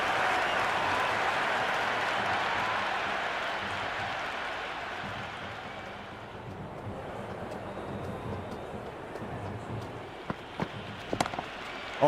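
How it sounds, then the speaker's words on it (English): Crowd noise from a stadium in the Cricket 26 video game, a continuous loud roar that eases midway, with a few sharp knocks near the end. "The crowd is electric right now."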